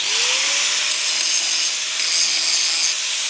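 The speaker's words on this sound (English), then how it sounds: "quick flash over there with the grinder, just taking the sharp, nasty edges off it" An angle grinder deburrs the sharp cut edges of steel purlins during a farm hay barn build, producing a loud, continuous abrasive hiss and whine that holds steady throughout, close up.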